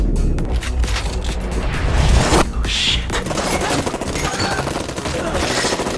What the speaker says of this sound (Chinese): 几名杀手对着屋内疯狂地扫射